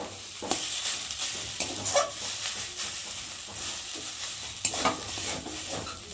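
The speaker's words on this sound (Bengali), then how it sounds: "তো নুন হলুদ দিয়ে একটু ভালো করে কষিয়ে নিচ্ছি" Spiced egg mixture with coconut, salt, turmeric and chili powder sautéing in a little oil in a pan, giving a steady sizzle with scraping stir strokes throughout.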